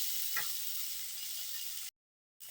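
Sprouted green gram stir-frying in a pan, a steady soft hiss of sizzling with a faint scrape of stirring, broken by a brief moment of silence before the sizzle resumes.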